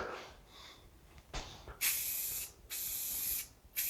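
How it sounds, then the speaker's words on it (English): Aerosol spray can hissing onto a car engine during a budget rebuild, several close, loud bursts of about a second each separated by short pauses, after some faint handling noises. "if you line up your nozzle to that little black dot, it sprays better"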